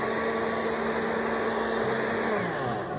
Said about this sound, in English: Put your cover on your blender and blend until all the ingredients are mixed.